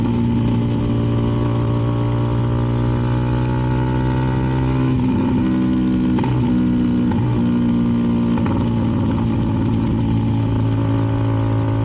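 A CFMoto 300NK motorcycle fitted with a KO aftermarket exhaust, ridden two-up on the road at about 55 mph, drones loud and steady with a few gear-shift dips and rises in revs, no talking.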